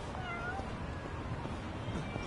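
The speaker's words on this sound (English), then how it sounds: "Okay, I have to find the cat first." A cat meows a few times in Yakuza: Like A Dragon, quiet and brief over a soft bed of game background sound.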